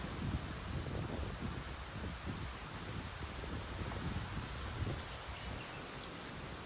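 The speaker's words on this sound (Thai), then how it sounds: "พายุเข้าว่ะพี่วันนี้ลมแรงมากๆนะครับ" Strong stormy wind in a forest, roaring continuously through leaves and buffeting the microphone in a dense, unbroken rush with gusty low thumps and rustling.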